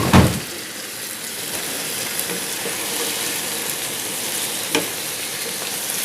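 Mutton chops frying in ghee in a pan for a Punjabi-style mutton chaanp masala, a steady close hiss and crackle running throughout with a sharp spatter at the start and another near the end.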